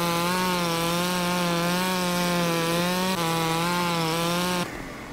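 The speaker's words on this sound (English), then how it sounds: "Let the chainsaw find it for you." A chainsaw in Farming Simulator 17 drones steadily as it cuts wood, a loud continuous buzzing engine tone that holds for several seconds before abruptly cutting off near the end.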